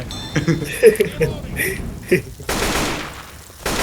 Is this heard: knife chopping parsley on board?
no